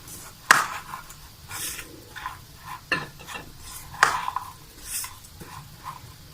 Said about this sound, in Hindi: हरी मिर्च और धनिया पुदीना और प्याज चॉप्ड। इसको मैं अच्छे से मिक्स कर लूँगी।